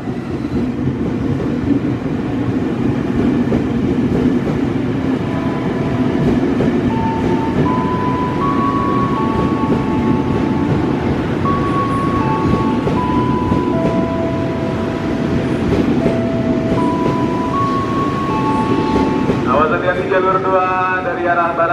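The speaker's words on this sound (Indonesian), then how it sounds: "Awas hati-hati jalur 2 dari arah barat kereta api melintas langsung." A train thunders straight through Jatinegara station in Jakarta at speed with a loud, continuous rumble and clatter, while an Indonesian public-address voice speaks over it.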